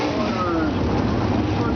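410 wingless sprint car engines roar steadily during hot laps at Circle City Raceway, a continuous loud engine drone from several cars circling the track.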